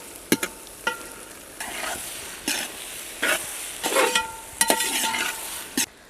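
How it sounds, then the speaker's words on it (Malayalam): Tomatoes added to a hot pan for a quail egg roast sizzle while being stirred, with repeated sharp spoon scrapes and clinks over a bright, crackling frying hiss, close and fairly loud. "ഇതിലേക്ക് ആവശ്യമായിട്ടുള്ള തക്കാളി ചേർത്ത് കൊടുക്കാം."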